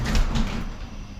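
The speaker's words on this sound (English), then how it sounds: "Let me close this garage door so I have these lights." A garage door rolls closed in a home garage, a brief, close rumbling slide that fades over about a second.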